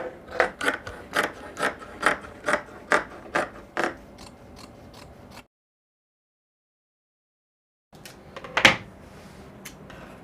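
Scissors cutting out fabric for a wrap crop top, a rhythmic series of crisp snips followed by a silent pause, then a few more cuts and a louder snip, close and clear without speech.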